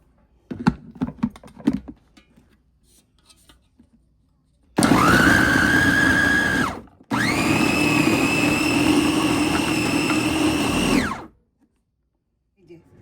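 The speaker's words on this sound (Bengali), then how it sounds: "সবগুলি একসাথে করে ব্লেন্ডারে ব্লেন্ড করে নিচ্ছি" A few clicks and taps, then a blender whirs loudly in two long bursts, briefly stopping between them before cutting off, blending chicken and garlic.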